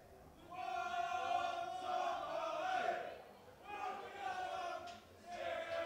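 Fans singing together at a live darts-style money match, a loud chant swelling in waves with brief dips between phrases, many voices in unison.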